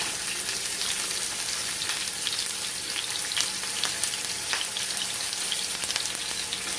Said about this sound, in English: I'm going to sear it on medium heat.